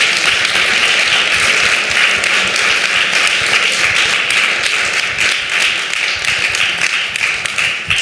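Steady, dense applause from an audience at an interfaith film series event, loud and close, holding at an even level for the full eight seconds with no talk over it.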